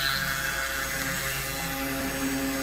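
A 3018 Pro CNC machine runs while cutting cardboard, giving a steady mechanical hum and whine with tonal motor lines, moderately loud and continuous throughout.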